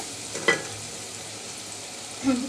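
Spiced masala with coriander powder frying in oil for a rohu fish-roe curry: a low, even sizzle with two short spoon scrapes, one near the start and one near the end.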